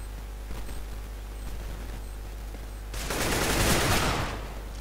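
Automatic gunfire spray during a video game match: a few faint scattered shots, then a loud dense burst of rapid fire lasting about a second before fading into steady background noise, no voices.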